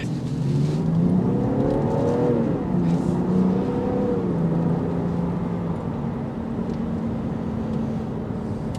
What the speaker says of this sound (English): you're gonna hear some road noise through the wheel wells because these are all terrain tires